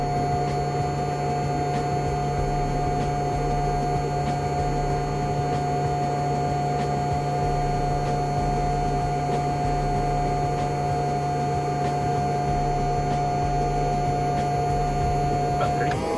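Engine compartment blower on a 1987 Catalina 34 sailboat runs with a constant droning hum and whirring airflow, steady and unbroken for the whole stretch.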